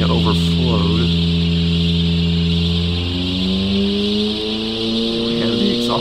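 A turbocharged car engine in the video game Automation revs at a steady drone with a rising harmonic pitch and a broad high hiss from the turbo. It is loud and continuous, with faint talk over it.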